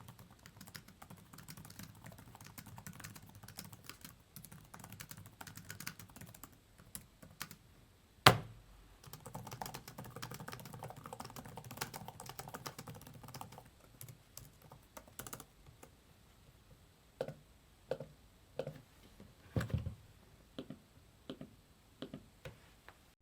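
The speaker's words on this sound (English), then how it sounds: "I'll give you a typing demo now." Typing on a Surface Pro 8 type cover keyboard, a steady run of close, soft key clicks that thins into sparser, sharper taps toward the end.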